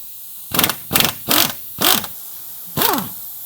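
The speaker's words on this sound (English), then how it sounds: "if you have an impact, that'll do the trick just fine" An impact wrench loosens 15mm sway bar bracket bolts on a Jeep Cherokee, firing in five short, close buzzing bursts, each under half a second, the last after a brief pause.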